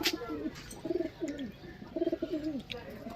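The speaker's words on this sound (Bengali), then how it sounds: "লাল আবলুক নর্মাদা পায়রার কোয়ালিটি দেখো" Murshidabadi Giribaz pigeons give repeated soft, throaty coos close by, in short rolling phrases with brief gaps between them.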